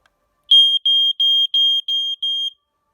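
A smoke alarm sounds six loud, shrill beeps in a quick even series, close up, with silence before and after.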